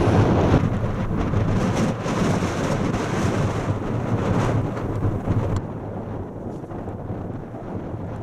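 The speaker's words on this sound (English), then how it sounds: "It's windy again, but it's nowhere near as windy as it was yesterday." Strong wind buffets the microphone on the exposed Bleaklow Head summit in the Peak District, a loud continuous roar with gusty swells that drops slightly toward the end.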